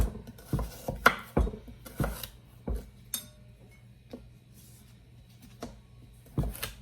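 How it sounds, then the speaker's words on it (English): A knife chops one medium carrot into small cubes on a cutting board, giving a series of sharp, irregular close-up knocks, clustered early and then spaced out with quiet gaps. "We're gonna chop our carrot into little chunks, just a little cubed."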